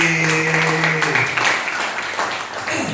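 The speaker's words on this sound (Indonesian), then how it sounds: "Oke, tepuk tangan dong Bapak Edi." An audience at a motivational training event applauds in a steady burst of clapping, with a sustained tone fading out during the first second.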